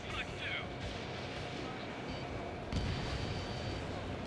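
Missile launch and explosion from an Ace Combat 7 jet combat mission: a steady roaring rumble with a sharp blast near the end, under a game soundtrack with brief radio voices.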